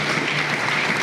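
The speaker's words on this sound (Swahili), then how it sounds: "Tumpigie makofi Mheshimiwa Rais." Sustained audience applause fills the hall at a Tanzanian human rights defenders' anniversary ceremony, a dense, steady clapping from a large crowd that runs evenly throughout without any talk over it.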